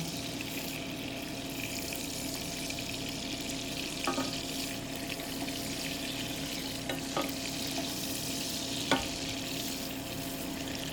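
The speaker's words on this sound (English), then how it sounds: "now they're going in the fry pan really quick" Steaks frying in a pan give a continuous even sizzle with occasional faint clicks and pops, moderately quiet and steady throughout, no one speaking.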